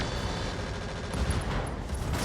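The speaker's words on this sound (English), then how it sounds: "that's an ammo explosion." Ammo explosion in the Roguetech mech combat game, a dense rolling roar of crackling blasts that fills the whole stretch with steady loudness, heard alone without voices.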